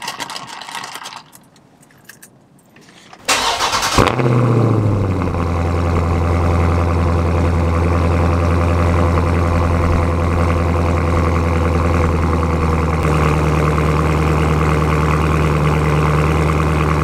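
A car engine catches after a brief crank, then settles into a steady, loud idle and running hum for the rest of the clip, with no talking over it.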